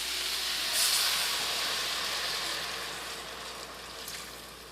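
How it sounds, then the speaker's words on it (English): Broth or stock pours into a pot of chicken curry, a broad steady hiss and sizzle that swells early, then eases slightly as the hot pan settles, with no talk over it. "So now we're gonna add our broth or stock in."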